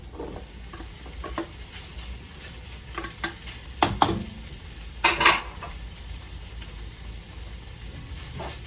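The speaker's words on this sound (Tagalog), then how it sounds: "Pagkahuman, ato na yung isahon ang atong shredded chicken breast" Shredded chicken breast stir-frying in a pan for chicken tinga, with a soft continuous sizzle broken by scraping and clanking as a utensil stirs it against the metal, and no voices.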